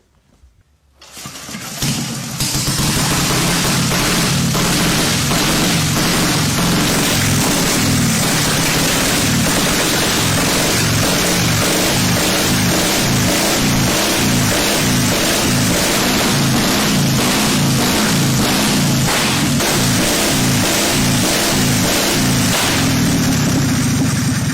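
An old vintage motorcycle, already warm with the spark advanced and the choke off, kicks over and fires up, then runs loud and close with a steady throbbing beat and repeated revving for the rest of the clip.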